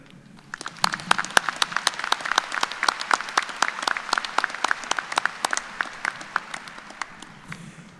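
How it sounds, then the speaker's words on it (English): Applause from a commencement audience at a spring college graduation, steady dense clapping with sharp individual claps standing out, filling the whole stretch at moderate level before easing slightly at the end. "Will you please join me in a round of applause to thank them?"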